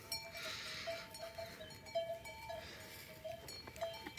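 Goats on a farm bleat repeatedly in short nasal calls at a moderate distance, with a steady outdoor background and no talk.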